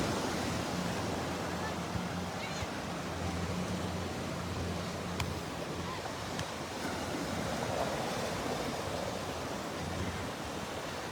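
Ocean waves wash onto the beach by Naples Pier on a morning walk, a steady, broad rush of surf mixed with wind buffeting the microphone.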